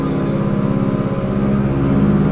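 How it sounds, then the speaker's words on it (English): Steady propeller drone of a Ford Tri-Motor "Tin Goose", a rare vintage 1920s airplane, heard from inside the cabin in flight at a fly-in from Sparta Airport in West Michigan, a loud continuous engine hum. "Right now we're in the Tin Goose, and it's a piece of history"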